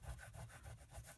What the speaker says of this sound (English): leave half of it on the grid mat, and it will just rub off